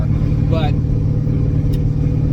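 Supercharged 600 hp Mazda Miata engine while driving, a loud steady low drone running throughout, with someone talking briefly over it.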